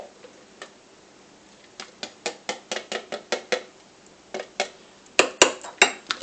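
A spoon clinking against a dish while dog food is prepared: a series of sharp, close metallic ticks in an uneven rhythm, a few louder clinks near the end, no voices.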